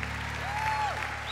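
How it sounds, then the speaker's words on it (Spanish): A church congregation applauds during a Sunday service of praise and preaching, a soft, steady wash of clapping over a low hum with a faint tonal whistle. "Apláudale con alegría, iglesia, con regocijo"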